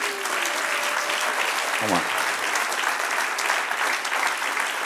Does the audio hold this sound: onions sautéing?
no